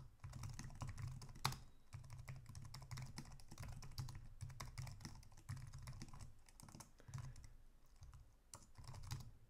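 Fingers type steadily on a computer keyboard while entering RPG program code on an IBM i system, a close, quiet run of rapid key clicks in bursts with brief pauses and no talking.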